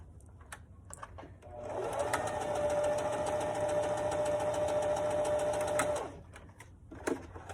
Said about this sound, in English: you are going to stitch right on the seam line with the right sides together